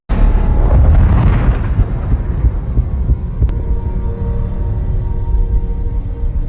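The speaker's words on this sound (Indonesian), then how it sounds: "tiba-tiba mobil itu meledak mengakibatkan banyak rekannya yang tewas." A car explodes in the action film Six Underground: a loud, deep blast opens, then a low rumbling roar slowly fades with crackling debris, no voices.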